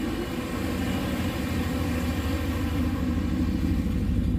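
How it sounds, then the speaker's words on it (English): A boosted 6.0 LS V8 with open exhaust drones continuously at close range, a steady, deep rumble, loud and throaty, with no talking. "So that's what it would sound like if the exhaust was open."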